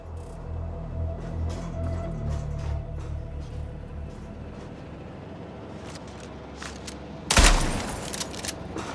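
Gunfire in the Mindseye video game: a rapid burst of muffled shots and engine rumble early on, then a single sharp loud blast near the end over a dim background.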